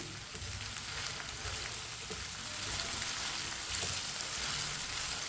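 Okra (bhindi) fries in oil in a pan, a steady dense sizzle with soft crackles and occasional spoon stirring, continuous and close throughout.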